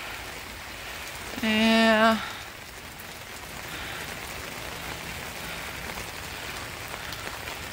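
Rainwater running off a gutter toward a rain barrel during rain, a soft continuous hiss of trickling and splashing water, with a brief voice speaking once near the start.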